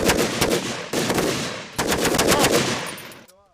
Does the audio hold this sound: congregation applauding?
no